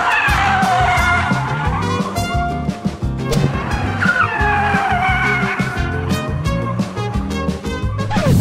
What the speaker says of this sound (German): Da könnt ihr mal sehen, wie das Auto quer um die Kurve fahren kann.